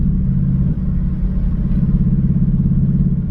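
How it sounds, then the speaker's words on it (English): A modified-exhaust Ford S550 Mustang in track mode rumbles with a loud, low, steady idle burble and pulsing exhaust pops, heard close up and without speech. "Now I'm gonna go in track mode. You can hear the burbles."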